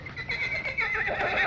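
A horse neighs near a hill outside a farmhouse, a clear, fairly loud whinny stretching across the whole short moment and rising in strength toward the end, with no talking.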